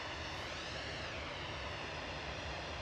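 An EasyJet airliner's jet engines roar at Manchester Airport, a continuous broad rushing drone filling the air at a steady distance without any voices.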